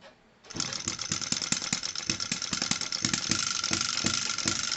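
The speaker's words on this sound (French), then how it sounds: "c'est un vrai hit and miss, vous l'entendez vraiment." An old Microcosm M96 model hit-and-miss engine starts up and runs with regular, chugging thumps under a loud mechanical roar, close by.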